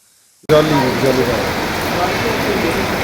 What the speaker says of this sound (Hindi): ये बरसात बढ़िया होगी, आज तो अच्छी होगी।